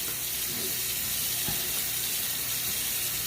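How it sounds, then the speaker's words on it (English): Tap water runs steadily at close range while something is scrubbed clean of old dirt, a continuous wash of splashing with brief rubbing and knocking sounds over about three seconds. "as I scrub this, scrubbing that old dirt away"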